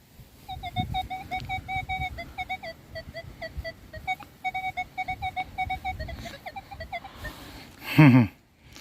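A Nokta Makro Legend metal detector sounds repeated short, bright, warbling beeps in quick rhythmic bursts by a lake, close and clear over soft handling noise, ending with a louder, lower tone.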